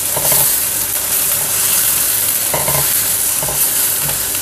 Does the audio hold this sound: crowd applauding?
no